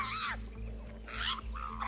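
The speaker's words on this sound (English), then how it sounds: "The silence is shattered by a fierce confrontation between a lynx and a wolf." A lynx and a wolf clash in the wild, heard as short bursts of snarling and growling with harsh, rising yowls, two or three fierce outbursts over a quiet, low backdrop.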